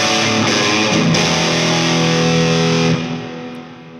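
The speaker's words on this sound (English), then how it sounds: "It's pretty crazy reverb there." Line 6 Helix cave reverb applied to an electric guitar, with a loud distorted chord ringing out in a wide wash of reverb, then decaying into a fading tail.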